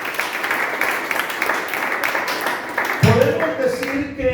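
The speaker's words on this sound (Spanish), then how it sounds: "Alguien que aplauda a Jesús" A church congregation applauds during an evening sermon, a dense wash of clapping for about three seconds before a single voice comes in over the last of it.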